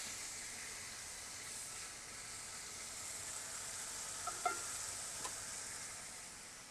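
A beef roast sears in a pan for a holiday roast dinner, giving a steady, soft sizzling hiss throughout with a few faint clicks near the end and no talking.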